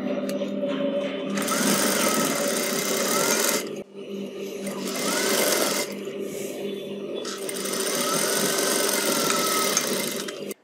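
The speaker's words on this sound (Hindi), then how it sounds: "तो ये इसको यहाँ एकदम किनारे के ऊपर स्टिचिंग लगा लेते हैं दोनों में" Sewing machine stitching along the edges of a kurti's shoulder pieces, a steady close mechanical whir running in three long bursts with brief pauses between, no talk.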